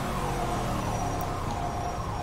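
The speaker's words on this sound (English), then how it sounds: "I don't like these sirens." Emergency sirens wail steadily in the distance beneath a constant rumble of traffic and engine noise in the video game GTA V.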